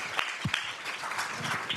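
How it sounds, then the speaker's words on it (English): Audience applause for the staff at a children's behavioral health summit fireside chat, a brief burst of clapping in a room with a few voices murmuring through it. "Give the staff a round of applause."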